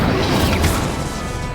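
A Confringo blasting spell in Hogwarts Legacy lands as one loud, close crashing burst that fills the whole short moment.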